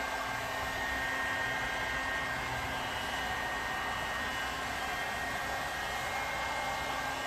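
A heat gun post-heats rose gold chrome vinyl wrap on a car fender, blowing in a constant loud, airy hiss with no breaks from start to finish.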